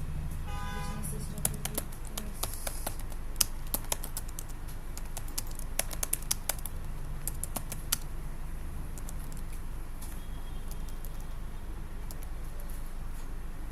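A computer keyboard typing a narration into Tally accounting software, with quick scattered key clicks in short runs, close and light, under someone speaking Hindi and a steady room hum.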